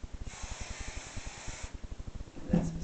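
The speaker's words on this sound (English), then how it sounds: "Give that some spray." A spray bottle mists a horse's coat during grooming, giving a long airy hiss that carries over a steady run of rhythmic thumps, close and fairly soft, followed by a brief snort-like burst.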